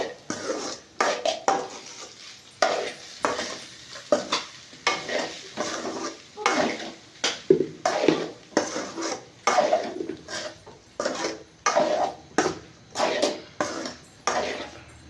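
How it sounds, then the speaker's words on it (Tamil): Rice with fried egg and bitter gourd being stirred in a pan, with rhythmic scraping and clinking of a utensil against the pan in repeated strokes over a faint sizzle, close and fairly quiet. "இப்போ நம்ம ரைஸ் போட்டு கிண்டலாம்"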